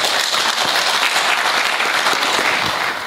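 A seated audience at a Ministry of Education and Sports event gives sustained, dense applause for a commissioner, steady and fairly loud throughout.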